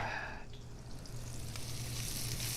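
Minced garlic sizzles steadily in a hot frying pan, with a brief clatter of utensils near the start and no voices.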